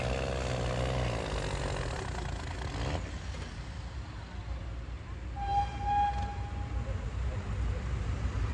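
Tractor engine working under load during a tractor pull, a loud continuous roar with audible shifts in pitch as gears change, and a brief whine midway.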